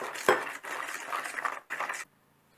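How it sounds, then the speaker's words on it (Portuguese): A small spoon scoops salt into homemade bread dough mixture with dissolved yeast, giving a few short metallic clinks and scrapes against a bowl, close and fairly soft, then quiet. "Agora eu vou colocar a minha colherzinha de sal."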